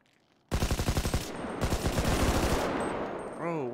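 Rapid SMG gunfire in GTA, with two close, loud automatic bursts, the second longer and denser, followed by a rising electronic whine.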